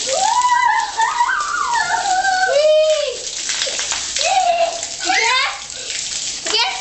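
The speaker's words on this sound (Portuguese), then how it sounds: "Põe o tanque pra encher, Yudi." Tap water pours steadily into a laundry tank at home, a continuous rushing stream running beneath children's voices that talk over it throughout.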